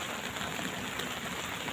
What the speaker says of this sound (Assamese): আমাৰতো ইয়াত বৰষুণ দিছে